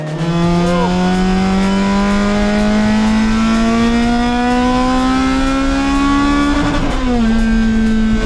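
A modified Honda Civic engine revs hard and loud, its pitch climbing steadily in one long high-revving pull before a quick dip and a shift, with no talk.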